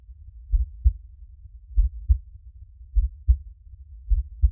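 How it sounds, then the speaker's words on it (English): A slow, steady heartbeat with paired low thumps repeating about once a second, soft and muffled, heard alone with no other sound. "there was this, the heartbeat, the rhythm and sound of belonging"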